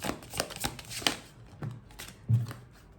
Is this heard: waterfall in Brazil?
no